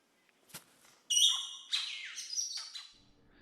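A golden bowerbird in a jungle gives a loud burst of harsh, rasping chirps and squawks after a faint click, calling alone in a quiet setting.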